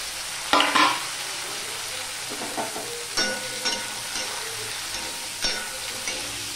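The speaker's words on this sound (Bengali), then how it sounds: "এবার আমি এই আলুগুলো পাতলা পাতলা করে কেটে রেখেছিলাম, সেই আলুগুলো আমি দিয়ে দিলাম" Thinly sliced potatoes tumble into onions frying in oil, setting off a sharp sizzle followed by several stirring scrapes and renewed bursts of frying, close and clear with no talking.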